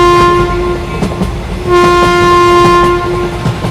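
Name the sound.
train arriving at the next station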